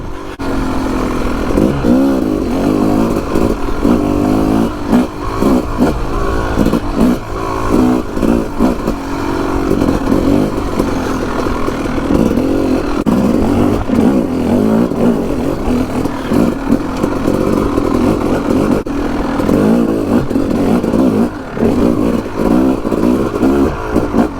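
A Yamaha YZ250 two-stroke dirt bike rides trails and single track, its loud, close engine rising and falling continuously as the throttle is worked.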